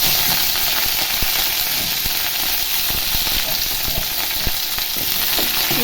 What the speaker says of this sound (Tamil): போட்டு நல்லா இந்த எண்ணெயில் வதக்கிடலாம்